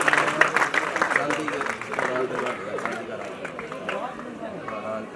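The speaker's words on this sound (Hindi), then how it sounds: "इसके लिए तालियां।" Applause at a retirement ceremony for a schoolmaster, a crowd clapping steadily under a hum of chatter and background voices, fairly loud and close at first, then easing slightly over several seconds.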